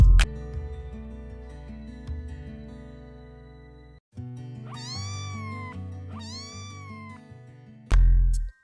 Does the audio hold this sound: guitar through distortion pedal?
no